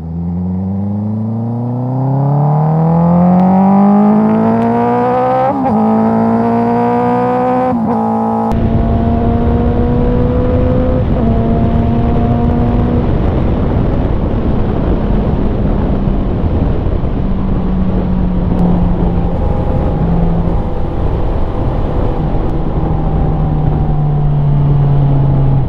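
A Honda CBR 650R motorcycle fitted with an Akrapovic exhaust, loud and close, its engine note rising through revs before settling into a steady, throaty drone while riding, with wind rush mixed in.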